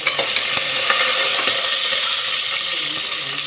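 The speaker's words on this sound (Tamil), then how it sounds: "சீரகம் இதை நல்லா நான் வறுத்துக்கலாம்." Cumin seeds and curry leaves roast in hot oil in a pan for mango rice, giving a steady close sizzle and crackle with light clinks of a stirring spoon throughout.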